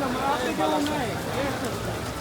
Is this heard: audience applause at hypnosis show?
no